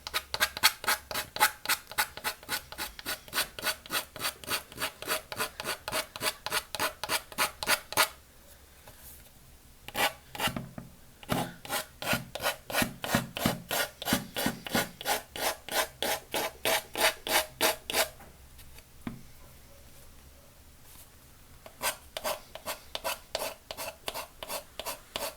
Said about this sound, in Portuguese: Mas aí a lixa me garante que ele fica bem rente.